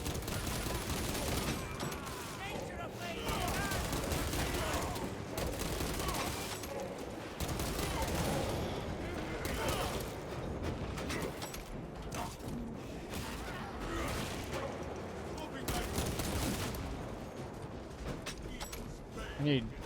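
Rapid SMG fire from a Space Marine video game, bursts layered continuously with explosions and mechanical clatter through the whole stretch, loud and dense with game sounds underneath.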